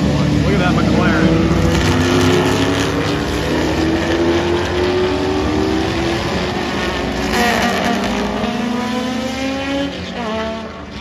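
Can-Am race cars with V8 engines roar past at a racetrack, loud and close, their revs climbing and falling in overlapping sweeps as the cars pass.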